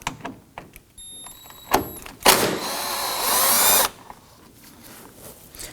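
An impact driver whirs in one close, loud burst of about a second and a half while loosening 10mm bolts on a 2018-2024 Toyota Camry 2.5L cooling fan assembly, with scattered handling clunks and taps around it.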